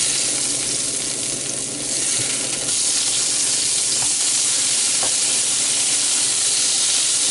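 Burgers sizzle and fry in a pan for meal prep, a steady close crackling hiss with faint occasional clinks and no talking.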